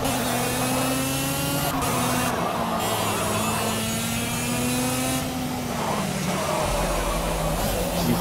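A go-kart engine in the racing game Project Cars drones loudly and continuously, its pitch shifting as the kart accelerates and eases off, with no voices.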